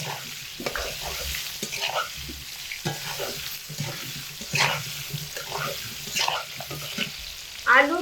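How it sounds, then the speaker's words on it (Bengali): Potato pieces sizzling in hot oil in a pan, crackling frying noise with stirring scrapes and clinks throughout, close and moderately loud, no talk. "তেলের মধ্যে আলু দিয়ে ভেজে নেব"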